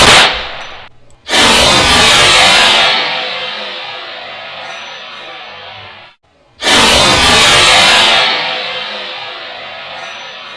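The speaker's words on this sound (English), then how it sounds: "stop my 458 SOCOM from slam firing" A .458 SOCOM rifle slam fires in two loud bursts of rapid, uncontrolled shots. Each burst is a sharp blast that runs into a sustained crackling volley and fades over several seconds, with a brief gap between them.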